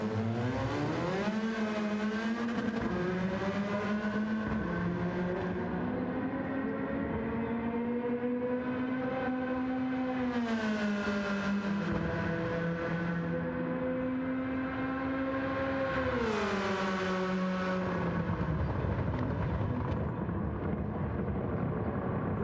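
A race car engine with anti-lag in Gran Turismo 7 drones loudly and steadily, its pitch climbing and falling through repeated gear changes as the revs build and drop, with no talk over it.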